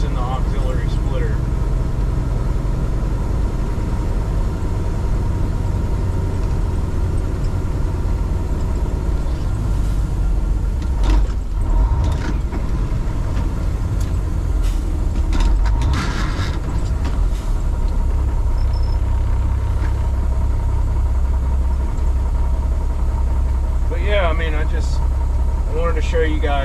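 A 2001 Western Star 4964EX truck engine rumbles steadily and loudly from inside the cab while gears are shifted, with pitch changes and clunks as the driver downshifts, and someone talks over the drone.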